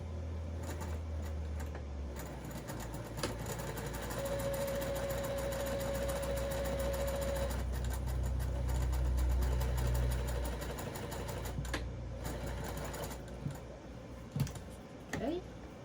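Domestic sewing machine stitching small doll boxer shorts, a fast mechanical whirring run in the middle lasting several seconds amid quieter clicks and handling, with a voice speaking softly at times.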